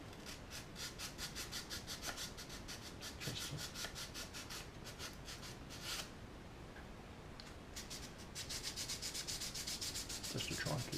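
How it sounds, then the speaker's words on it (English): Sandpaper wrapped around a file rubs on a part of an O gauge 7mm model kit, making steady rapid back-and-forth scraping strokes that sound close and continuous. "I shall wrap the sandpaper around"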